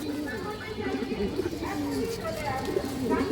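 A male red Makra Musaldom pigeon coos in repeated low, throaty rolls close by, over a steady noisy background, with someone talking over it.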